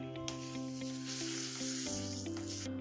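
Hot oil poured into a soya chaap tikka marinade sizzles and crackles loudly and steadily for a few seconds, with faint stirring and no talk.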